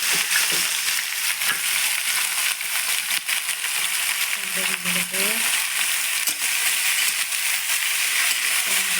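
Chopped potato, onion and kundru (ivy gourd) fry in a pan with a steady crackling sizzle, broken by occasional scraping stirs and a brief clink partway through, and no one talking.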